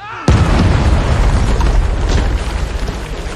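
A detonated explosive goes off in a war action film about railroad fighters against the Japanese army: a sudden loud boom that fills the whole range, then a long rumbling roar that stays dense and loud to the end.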